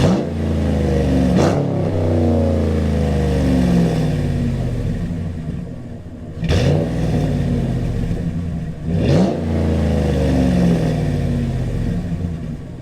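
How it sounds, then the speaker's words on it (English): A 4th-generation RAM 1500 pickup with a loud aftermarket exhaust idles with a deep steady rumble, then is revved three times, each sharp blip rising and falling over the drone, close and loud with no talking. "I'm going to give it a couple revs, see how it sounds with that"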